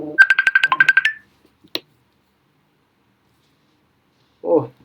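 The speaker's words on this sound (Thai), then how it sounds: "โอ้มีสายเข้าทุกคนเนาะครับแป๊บนึง" A phone ringtone signals an incoming call with a rapid string of bright electronic beeps that stops after about a second, followed by a click and then a brief voice.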